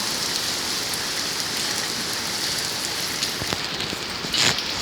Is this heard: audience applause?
no